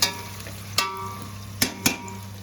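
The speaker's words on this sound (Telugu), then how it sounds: "ప్రస్తుతానికి అంతవరకు వేసి దాన్ని వేయిస్తున్నాను" Constant sizzle of onions and spices frying in oil for mutton pulao, punctuated by four sharp clinks of a utensil against the pan.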